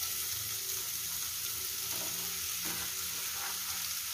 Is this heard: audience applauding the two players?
no